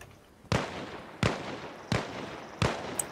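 Four evenly spaced gunshots ring out in an ARMA Reforger resistance-ops firefight, each a sharp crack followed by a long echoing tail, heard from a distance with no voices over them.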